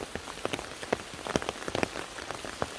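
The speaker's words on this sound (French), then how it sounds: "Donc là il pleut extrêmement fort." Heavy rain pours down outdoors during a wet-weather foraging outing, a dense patter of drops striking surfaces with scattered sharper splats, steady and close with no voices.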